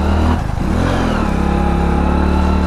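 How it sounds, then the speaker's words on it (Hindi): A motorbike engine labours steadily and loudly while climbing a steep hill road toward a hilltop temple, a continuous strained drone with wind rumble and no voices. "जोर आ रहा है बाइक को खूब जोर आ रहा है चढ़ने में"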